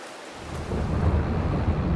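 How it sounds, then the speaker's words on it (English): Rain pours steadily in Farming Simulator 22 while thunder rolls in after a quiet first moment, the low rumble swelling and holding loud beneath the downpour to the end. "I really hope this rain eases off."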